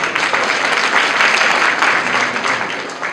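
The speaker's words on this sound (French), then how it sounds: "que je vous prie d'applaudir, s'il vous plaît" Steady crowd applause fills a hall at the Guinean embassy's national day celebration, dense continuous clapping with no break that eases slightly toward the end.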